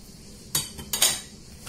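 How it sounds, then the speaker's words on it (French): A spoon stirs chocolate coffee cake batter in a small mixing bowl, giving a few light clinks and scrapes against the bowl's side, spaced over a quiet background with no talking. "Je mélange doucement parce que j'ai pris un petit saladier."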